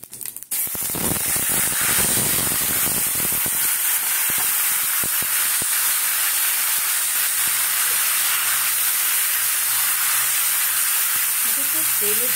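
Chicken meat spiced with cumin fries in hot oil for lemon chicken: a few clattering knocks at the start, then a loud, steady, hissing sizzle that fills the rest.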